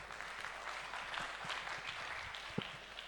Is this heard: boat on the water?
no